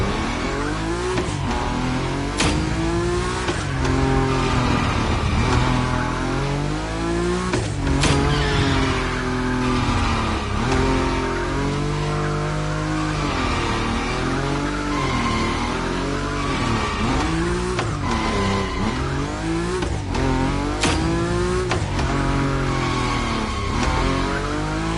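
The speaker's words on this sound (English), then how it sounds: "Your Nismo is powerful enough to slide along on its own when you're at high speed, so don't be afraid to keep your foot on the gas" A Nissan Nismo in The Crew Motorfest racing game roars continuously at high speed, its engine revving up and down while the tires slide and squeal through long drifts.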